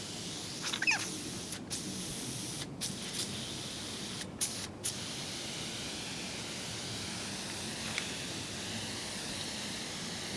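A spray gun lays down a thin final coat of primer thinned with a little retarder, giving a steady, even hiss that runs unbroken from start to finish, with a few faint clicks.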